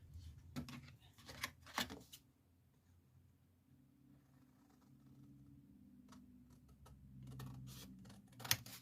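Scissors cut paper for an autumn accordion-style scrapbook mini album. Several crisp snips come close together near the start, then it goes quiet with faint handling noise, and a few more sharp cuts follow toward the end. Everything is soft and close.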